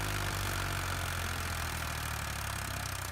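An upgraded Ford 4610 tractor hauls a heavily loaded trailer through slippery mud. A loud, continuous low engine drone labours steadily under strain at close range, with no voices.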